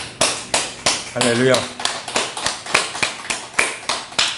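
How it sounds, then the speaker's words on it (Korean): A church congregation claps in slow, evenly spaced unison beats, close and distinct, with a brief spoken exclamation over the claps. "우리 주님께 감사의 박수 드립니다."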